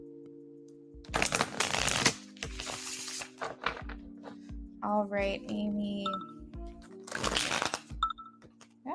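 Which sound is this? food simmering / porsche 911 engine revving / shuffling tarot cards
shuffling tarot cards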